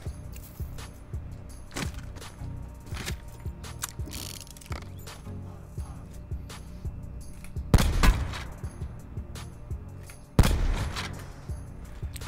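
Shooting in the Call of Duty: Blackout video game comes as many sharp gun cracks and mechanical clicks in an irregular rhythm. Two louder, heavier blasts stand out near the end.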